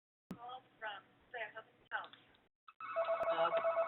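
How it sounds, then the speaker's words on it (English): A telephone rings in a room during a public meeting on streetlight LED conversion, a steady electronic trill entering after several phrases of speech and continuing to the end, fairly clear and close. "Of course, we do hear a phone ring."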